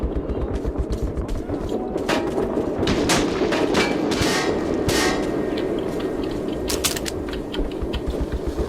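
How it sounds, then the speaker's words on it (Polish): Rapid bursts of gunfire in the video game Metro 2033 crackle continuously, with sharper shots standing out over a dense, loud background of shooting. "to wszystko to są strzały stamtąd"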